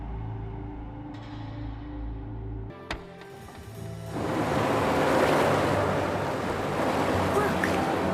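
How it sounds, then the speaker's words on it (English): Water rushing and draining away in the video game Wuthering Waves, a broad, loud surging wash that swells after a low rumbling hum and a sharp hit, then continues steadily to the end. "Look, the water is going down."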